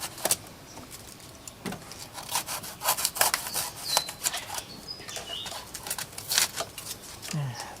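Hardened PU foam is cut and trimmed with a blade in repeated short rasping, scraping strokes, close and moderately loud, with someone talking quietly in between.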